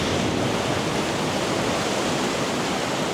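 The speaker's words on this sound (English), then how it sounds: "A big wave coming through now" A big ocean wave breaking, a loud, broad rushing wash of water that fills the whole stretch without pause.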